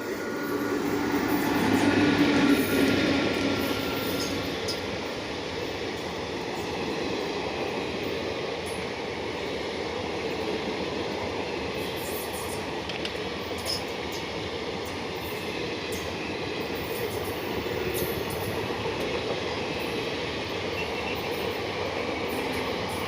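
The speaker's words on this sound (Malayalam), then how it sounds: "മംഗലാപുരം കന്യാകുമാരി പരശുറാം എക്സ്പ്രസ് കോട്ടയത്ത് നിന്ന് വരികയാണ്" Mangalore–Kanyakumari Parasuram Express passing on the down track of an Indian Railway double line, a steady loud rumble of coaches and wheels running continuously throughout without pause.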